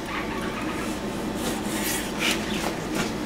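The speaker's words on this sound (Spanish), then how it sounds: "la fajita la vamos a cortar. ¿Delgaditita? Sí, delgadita y a lo largo" A knife slices steak for fajitas into thin strips lengthwise, giving a steady close rasping, rubbing scrape with a few brief sharper strokes, no talk over it.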